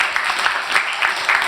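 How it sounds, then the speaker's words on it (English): A small audience at a museum explorers' night gives a short round of applause, a brief, fairly loud patter of clapping hands. "We'll definitely have a round of applause for Christian there."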